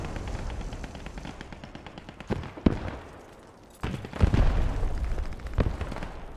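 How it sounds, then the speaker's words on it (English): Explosion of a Kubelwagen in a World War II video game, heavy booms and crackling blasts over a continuous rumble of battle, with a couple of sharp impacts standing out. "And we have an exploding Kubelwagen"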